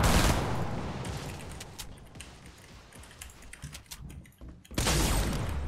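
Gunfire bursts out in a shooter game, dense rapid shots at the start and end with scattered clicks and mechanical noises between, loud and close.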